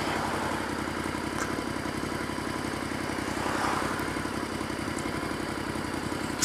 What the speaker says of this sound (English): Still idling away. I may as well have switched my bike off, save some petrol.